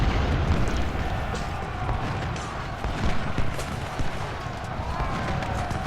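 Musket volleys and battle noise from the Civil War strategy game Ultimate General at Bull Run, heard as a continuous rumbling din of distant gunfire with scattered sharper cracks and no talk.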